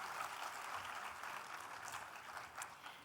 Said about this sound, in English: let's give them a huge round of applause, please